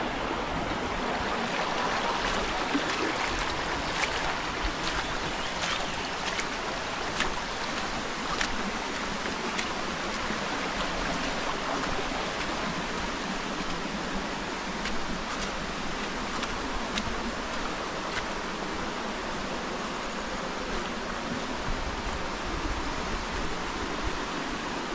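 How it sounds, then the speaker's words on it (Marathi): Water flows steadily through a stream in a rural Konkan village, a continuous even rushing wash that holds at the same level from start to finish with no voices. "हे सगळं उमराटाचं पाणी आहे मित्रांनो."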